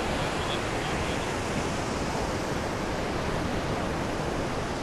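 Constant broadband rush of flowing creek water where Broad Creek and Shallow Creek meet, steady and fairly close with no pauses or other sounds.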